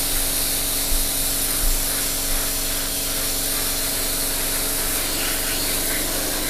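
Airbrush spraying light, dusty primer coats onto a Tamiya 1/48 P-47D or P-51D model kit, a steady close hiss of air and paint that runs unbroken throughout with a few faint bumps.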